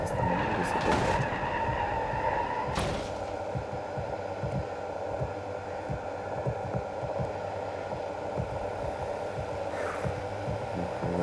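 A manual-transmission car stops on the handbrake and pulls away, giving a steady engine hum inside the cabin with a few sharp squeaks and brief clicks and knocks and no voices.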